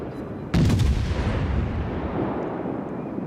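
Warship gun turrets in World of Warships, a light cruiser USS Omaha firing all five turrets downrange in a naval battle, one sudden heavy boom followed by a long rumbling roll that fades slowly.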